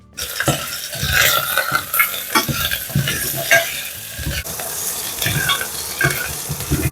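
Chicken bones and skins sautéing in a little oil, a steady close sizzle with repeated scraping and stirring strokes from a utensil against the pan throughout.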